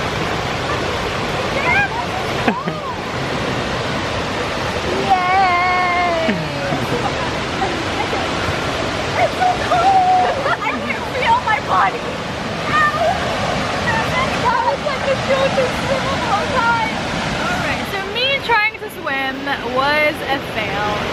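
Steady roaring rush of waterfalls on a river in Mostar, Bosnia and Herzegovina, in rainy weather, with people talking and calling out over it.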